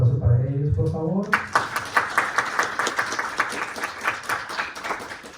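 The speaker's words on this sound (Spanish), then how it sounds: "les pido un aplauso para ellos, por favor." Classroom audience breaks into applause right after a short spoken request, the clapping lively and steady, then slowly fading.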